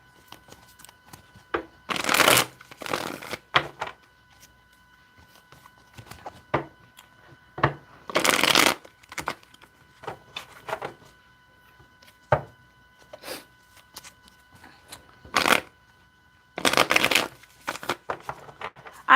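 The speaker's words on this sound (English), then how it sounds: "Let me get two more shuffles here." Tarot cards being shuffled by hand, a series of quick crisp riffling bursts separated by pauses, close and fairly loud against a quiet room with no talking.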